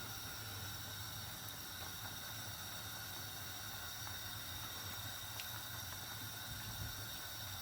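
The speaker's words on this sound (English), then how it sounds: "Now the water is boiling." Water boiling in a pot for chicken keema pulao, a steady bubbling hiss that runs continuously at low volume without any pauses.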